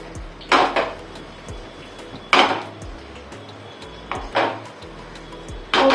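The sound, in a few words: sautéing onions in a pan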